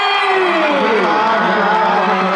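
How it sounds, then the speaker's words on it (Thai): At a Thai premiere of Guardians of the Galaxy Vol. 3, a crowd roars with sustained applause and cheering, loud and continuous, with voices shouting over the clapping. "ขอเสียงปรบมือดังๆนะ"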